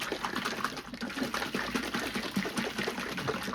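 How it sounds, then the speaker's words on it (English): Acrylic paint being poured for a fluid art piece gives a steady, close liquid trickle and gush, a continuous wet pouring sound with no voices. "Right, first pour is going on here."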